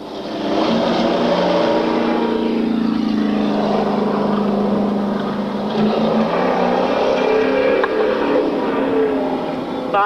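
Loud stock car race engines roar past in a continuous, sustained drone as the 09 Oldsmobile of Todd Turner takes the checkered flag, the pack's engines rising and falling steadily throughout.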